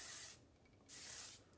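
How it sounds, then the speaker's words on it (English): Two short bursts of light hair spray from a can, each a soft, close hiss lasting about half a second, separated by a brief pause, with no talking. "Basically just a light spray, and this stuff will give your hair"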